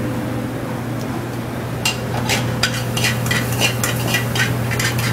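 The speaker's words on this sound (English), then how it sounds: "Once your pan is pretty hot, you can tell from the sizzling it is." Minced garlic sautéing in a little oil in a hot sauté pan: a low steady sizzle, then a spoon or spatula scraping and stirring in quick clattering strokes, close up with no talking.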